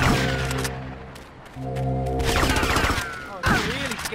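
Gunfire in GTA Vice City, during the mission Death Row, comes as bursts of shots and thuds among loud game sounds and music, with sharp reports clustered near the start, the middle and the end.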